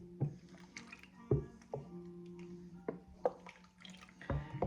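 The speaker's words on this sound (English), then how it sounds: "We're mixing it." Flour, sourdough starter and water are mixed by hand, giving soft wet squelches and irregular sticky slaps close by at low volume, with no talking.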